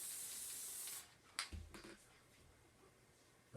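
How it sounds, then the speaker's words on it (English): A brief hiss of spray paint with mica powder, two colors blended into an ombré tip, near the start, followed by a few short clicks and faint rustling, then near-quiet. "Spraying in the midsection there for the two meet"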